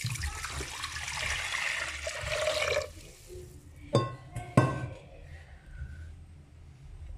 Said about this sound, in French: Maintenant, je rajoute de l'eau.